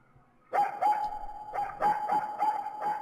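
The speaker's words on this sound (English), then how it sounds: "A dog." A dog barks in the Pocket Mirror game, a quick series of about seven sharp, tonal barks in an uneven rhythm, loud and close, after a brief quiet start.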